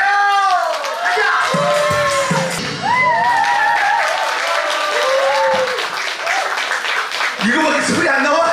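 An outdoor crowd at a gakseori street performance on Kkotji Beach, Anmyeondo, claps and cheers loudly, with whoops and shouting voices rising over the continuous applause.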